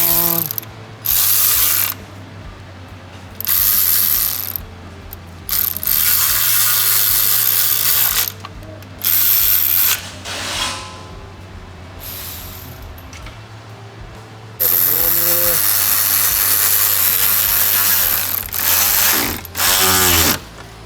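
A ratchet tightens two T30 mounting bolts on a 2017 Jetta GLI engine, with repeated bursts of rapid clicking separated by short pauses, loud and close with no talking.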